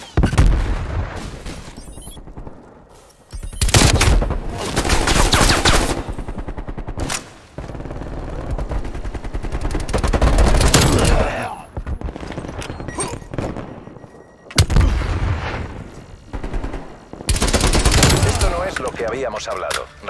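Sentry turret and weapon fire in the video game Call of Duty Black Ops Cold War, repeated loud bursts of rapid automatic gunshots separated by short lulls, with in-game voices between.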